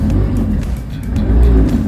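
A boat's outboard engine fires up on a cold midwinter start and revs, a loud, close, rough mechanical roar that rises and holds without talk.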